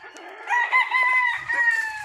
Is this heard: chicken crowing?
yes